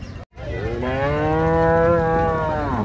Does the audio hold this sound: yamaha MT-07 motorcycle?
no